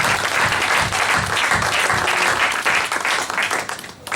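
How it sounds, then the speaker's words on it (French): A church congregation applauds loudly and steadily, praising God, a dense continuous clapping that carries through the whole stretch and thins briefly near the end. "Est-ce qu'on peut encore acclamer très fort pour la gloire du Seigneur?"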